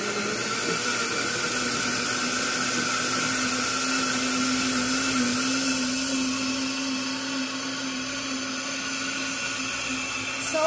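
Kitchen blender running its juice function on grapes with peels, a loud, steady, high-pitched whirring drone close up that continues unbroken for about ten seconds without speech.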